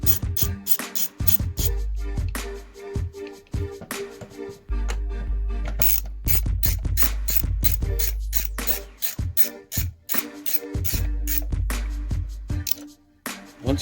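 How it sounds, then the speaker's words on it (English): Torx 15 screws being loosened on a Maytag/Whirlpool door latch, heard as a dense run of close, sharp clicks, scrapes and rattles over a low steady hum throughout. "Once you loosen those screws"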